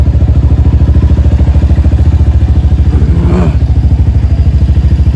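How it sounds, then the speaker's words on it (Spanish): A motorcycle engine runs close by with a steady, rapid, throbbing idle pulse, loud throughout, with a brief clattering rattle partway through and no talking. "Mi jefe viene de Santa Clara en la moto."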